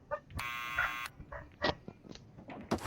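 Apartment door buzzer at the Hill Valley Apartments in Back to the Future: The Game, one steady electronic buzz lasting about 0.7 seconds. Short dog barks come before and after it.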